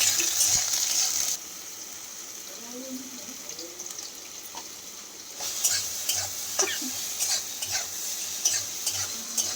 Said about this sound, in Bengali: বেগুন দিয়ে শাক ভাজবে।